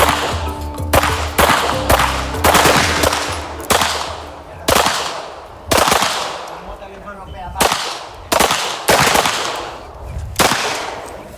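Guns fire at an outdoor shooting range in Puerto Rico: a steady string of about a dozen sharp, loud shots spaced roughly a second apart, each followed by a short ringing decay.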